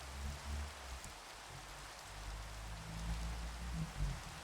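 Rain falls in Minecraft as a quiet, even hiss with faint low patter underneath, steady throughout and with no voices.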